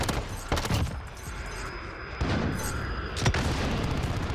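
Gunfire in Call of Duty Modern Warfare multiplayer, bursts of loud cracking shots and booms in quick clusters with a steady whine in between, continuous and close.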